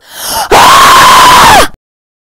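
A person screams loudly and continuously into a microphone for about a second to blow dust off a fossil in a video game, close and harsh, after a brief rising breath, then cuts off abruptly into silence.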